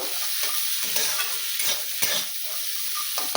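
Soup vegetables tossed and lightly fried in a pan, loud close sizzling with rhythmic spatula strokes and scrapes every half second or so, alone without talk.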